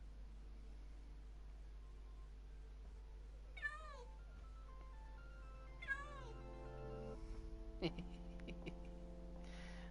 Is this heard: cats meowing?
yes